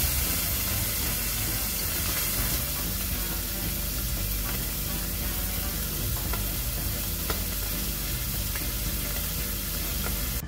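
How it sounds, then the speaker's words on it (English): Noodles frying in hot oil fill the frame with a steady, dense sizzle and crackle from start to finish, fairly close and loud, with no talking over it. "This is me handling hot oil like the big strong man I am."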